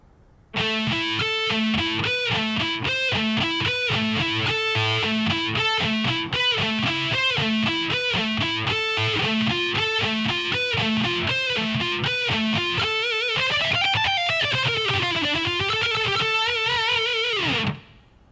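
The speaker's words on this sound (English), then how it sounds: "at a slow tempo, that last lick should sound like this" Distorted electric guitar lick played at a slow tempo: a long, continuous run of saturated notes that ends in sliding, bending tones, loud and close with no talk.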